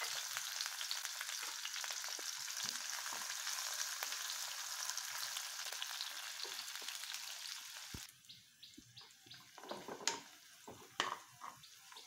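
Onion, garlic and green chilies frying in oil for an eggplant and greens stir-fry, a dense steady sizzle for the first eight seconds, then quieter with irregular stirring scrapes and clatters close by.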